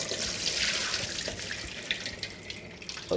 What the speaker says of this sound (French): Donc maintenant qu'ils sont là, donc on va juste enlever l'eau.